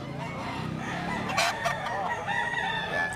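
A rooster crows loudly at a busy chicken market, its drawn-out call rising over a dense backdrop of other clucking and crowing fowl and general market noise.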